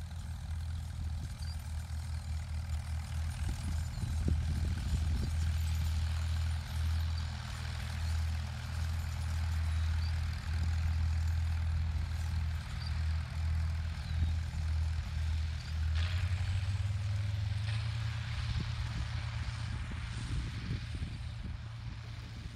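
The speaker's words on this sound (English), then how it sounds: "The 161 PTO horsepower International 1566 was the largest row crop tractor available from the company" International Harvester tractors, including a 161 PTO horsepower International 1566 row crop tractor, work a field seeding oats and alfalfa with a drill; a steady, loud low diesel engine drone runs throughout, shifting pitch slightly near the end.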